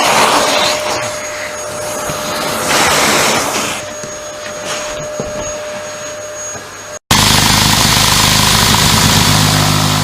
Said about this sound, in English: Now cutting some perspex.